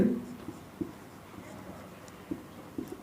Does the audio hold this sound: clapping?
no